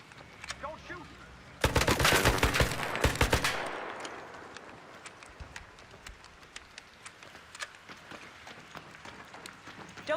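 A burst of rapid automatic gunfire rings out in a video game, loud and close for about two seconds, followed by scattered fainter shots, footsteps and a speaking voice.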